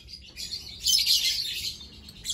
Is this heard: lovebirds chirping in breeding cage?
yes